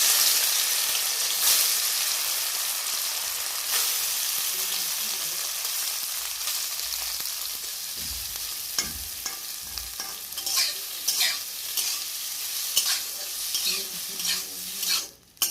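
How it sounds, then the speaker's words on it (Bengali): Soya chunks fry in oil in a village-style kitchen pan, with a loud, continuous sizzle and scraping stirs that grow more rhythmic toward the end, close up and without talk. "আমি আজকে হাড় ছাড়া মাংস রান্না করব। তো আমি দেখো আগে ভেজে নেব"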